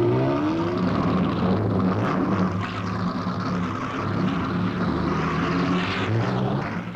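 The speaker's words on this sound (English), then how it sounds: "And this is our Ferrari" A 1953 Ferrari racing car competing in the Mille Miglia road race makes a loud, steady engine roar that holds at the same level throughout, with a strong low drone and a faint changing pitch, and no one speaking.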